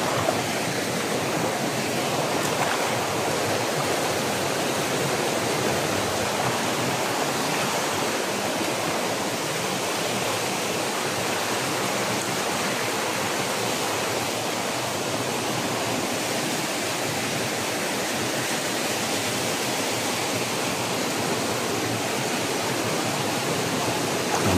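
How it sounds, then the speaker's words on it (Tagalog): A mountain stream rushes in a loud, constant, broadband wash of flowing water, close by and unbroken throughout, with no voices. "Ito na yung sapa na dinaanan nila."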